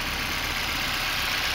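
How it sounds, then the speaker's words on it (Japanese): Honda S2000 AP2 engine idling with the hood open, a steady, even mechanical hum that holds constant throughout with no talking. "はい、エンジンかけてみました。"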